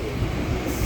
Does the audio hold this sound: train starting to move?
yes